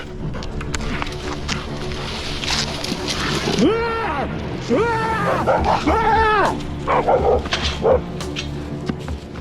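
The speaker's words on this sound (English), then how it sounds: "An Akita dog detects the presence of a bear while walking with its owner." An Akita dog barks in several sharp, repeated bursts at close range on sensing a nearby bear while out walking, with some yips and whines among them, over background noise.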